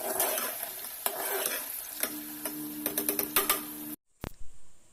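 Onions fry in a pan for a rice bath dish. Loud, steady sizzling carries a run of rapid metallic clinks and scrapes as a spoon stirs the pan, then the sound cuts off abruptly near the end, followed by a few faint knocks.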